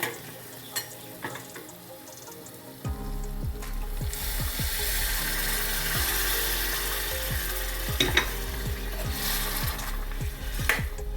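Chopped pav bhaji vegetables tipped into hot masala with tomatoes in a pan, setting off a loud, steady sizzle and fry with repeated spoon scrapes and clinks against the metal, no talking.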